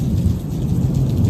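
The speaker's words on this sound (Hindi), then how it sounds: "आकाशीय जो बिजली है वो कड़कने की आवाज़ और ठीक ठाक बारिश हुई है।" Steady rain pours down during an unseasonal storm over crop fields, with deep rolling thunder rumbling beneath it, loud and continuous throughout with no voices.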